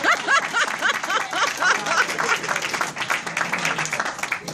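An audience at a culture event in Chicago claps steadily throughout, a dense close wash of applause with a few laughs mixed in.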